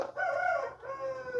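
A rooster crows at a farm at dawn, around six in the morning, with a long drawn-out harmonic call that rises, holds, dips briefly and carries on; loud and fairly close, with no talking.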